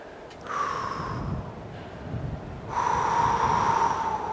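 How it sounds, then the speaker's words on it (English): A climber character in the video game Cairn breathes deeply while resting, with slow, audible snorting breaths in two longer stretches over a soft steady tonal background. "Yes, she starts with a deeper breathing."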